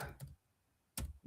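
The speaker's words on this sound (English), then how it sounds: "I'll type it right here" A few quiet clicks from keys on a computer keyboard while a web address is typed, a short cluster, then a pause, then another burst of taps.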